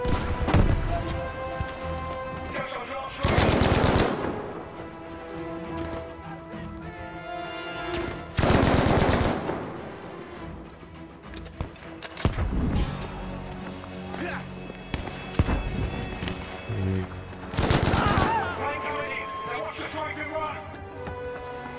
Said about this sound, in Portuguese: Vou meter bala e tudo aqui.